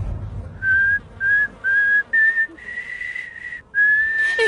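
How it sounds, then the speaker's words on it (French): A melody of Au clair de la lune is whistled through the nose in clear, sustained pure notes, phrase by phrase with short breaths between, close and loud with no talking. "Quand il respire, il arrive à siffler au clair de la lune avec son nez."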